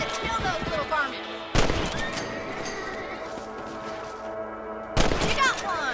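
Two sharp gunshots crack out during a rabbit hunt in Red Dead Redemption, spaced a few seconds apart over busy in-game ambience with horse sounds and brief talk.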